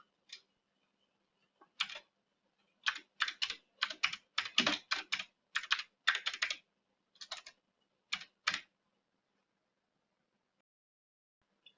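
Bursts of crisp keyboard typing on a computer keyboard as comments are entered into a blood bank hospital software system, quick clustered key clicks with pauses, close and alone.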